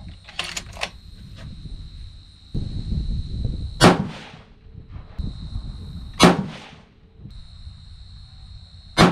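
Three loud 300 PRC rifle shots loaded with 78.6 grains of Retumbo powder and Hornady A-Tips go off at steady intervals on an outdoor range. Each sharp crack has a decaying tail, with low rumbling wind and handling noise in between.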